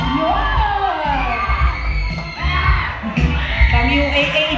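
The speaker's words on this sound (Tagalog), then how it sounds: "Pang UAAP ang sigawan." A crowd of classmates at an 18th birthday celebration shouts and cheers loudly, with overlapping whoops and yells rising and falling in a continuous burst of noise.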